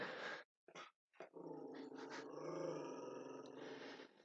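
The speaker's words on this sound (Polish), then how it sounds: "Timon, nie szczekaj, bo nagrywam." A dog growls low and steadily at close range, with a few short sharp bursts like barks near the start, recorded quietly indoors.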